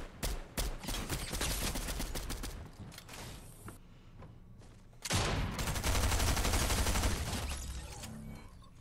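Gunfire in the Fortnite video game, dense bursts of rapid shots up close, a brief lull near the middle, then a loud sustained volley through to the end.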